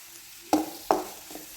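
Spice powders for a squid roast frying in a pan, with two soft close scrapes of a stirring spoon over a faint sizzle and a weaker third stir.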